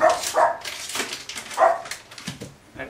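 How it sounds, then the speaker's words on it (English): A dog barks repeatedly in quick, yappy bursts close by, some barks sharp and high, with a few whimpering yips mixed in. "Excuse my dog, he's barking."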